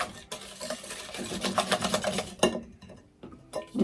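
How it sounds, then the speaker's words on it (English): A whisk beats peach cobbler batter vigorously in a bowl, producing a rapid, even scraping and clicking rhythm up close, with a short pause before the whisking picks up again. "Let me give mine a vigorous whisk here."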